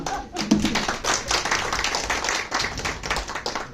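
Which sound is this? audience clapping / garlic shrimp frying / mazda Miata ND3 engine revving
audience clapping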